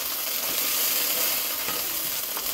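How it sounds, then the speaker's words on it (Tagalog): Fresh farm-picked asparagus sautéing in olive oil produces a loud, steady, close hiss of frying that stays constant throughout, with faint stirring clicks and no talking. "Igisa ko lang sa olive oil."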